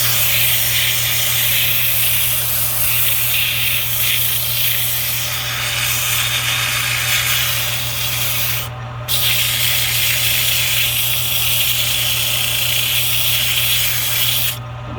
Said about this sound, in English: While it's turning, I sand this way.